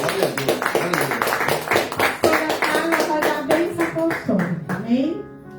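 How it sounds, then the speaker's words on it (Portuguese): A church congregation claps together in a steady rhythmic beat, sharp repeated hand claps running under singing and talking voices before the clapping fades out near the end. "aplaudam o Senhor"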